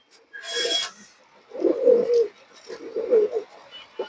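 A tagged silver pigeon held in the hand makes three close, brief bursts: a sharp rustle of feathers, then two soft, throaty rubbing coos, with quiet gaps between.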